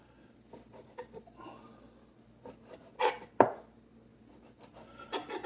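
A knife cuts through semi-frozen bacon on a board, with soft rubbing strokes and two sharper cuts in the middle, close and quiet, with no talking.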